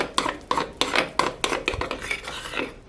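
Sweet potato pancake batter with salt and baking powder is stirred in a bowl, giving a series of close, rhythmic scraping and clinking strokes, roughly two each second, with no talk.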